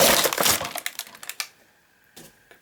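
A Matchbox 2020 Mission Force Lunar Team toy package is ripped open: a loud burst of tearing plastic and cardboard up front, then a few scattered crackles and faint clicks as it comes apart.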